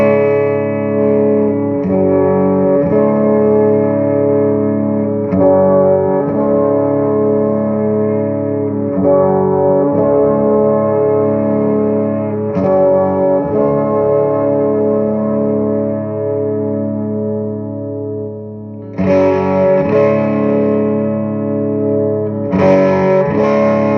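An electric guitar with an EMG active pickup, played through a Somnium Toneblender pedal, rings out with sustained distorted chords and swirling effects, loud and steady with brief chord changes throughout, no talking.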